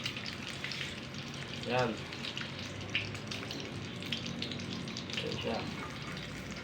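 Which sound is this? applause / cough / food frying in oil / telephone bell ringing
food frying in oil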